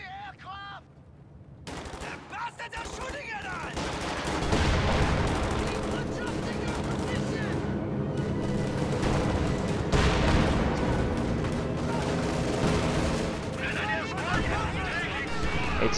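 Steady WWII strategy-game battle din of rattling gunfire and booming anti-tank gun shots firing on an EZ-8 tank, dense and continuous, with a commentator talking over it.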